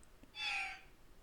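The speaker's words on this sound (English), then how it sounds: "There's a bird outside the window." A single bird call outside a window in the game Zelda Skyward Sword, one short hooting chirp rising and fading within half a second, faint and alone over quiet background.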